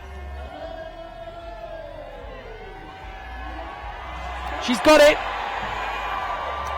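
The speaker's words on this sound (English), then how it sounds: "The Denver crowd really behind her." A Denver crowd at a women's lead final of the 2019 UIAA Ice Climbing World Cup swells into a loud cheering burst near the end, with a commentator talking steadily over the arena noise throughout.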